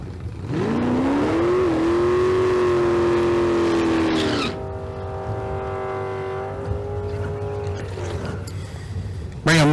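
Street cars at a Las Vegas drag strip rev and accelerate hard, the engine note climbing and holding loud and close before dropping off into a lower, steadier engine sound.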